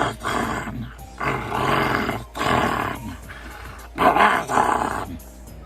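A voice imitates Koraidon's Pokémon cry as a creepy, robotic-sounding roar, given in four loud, growling bursts with short gaps between them.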